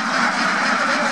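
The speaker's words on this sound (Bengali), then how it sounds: "খাকি ক্যাম্বেল জাতের হাঁসের খামারে।" Khaki Campbell ducks on a duck farm make a dense, continuous chorus of quacking, loud and close with no voices.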